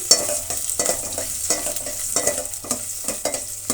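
Onion and curry leaves sizzle in hot oil in a pan while being stirred, a steady close frying hiss broken by scraping stirs, with no voices.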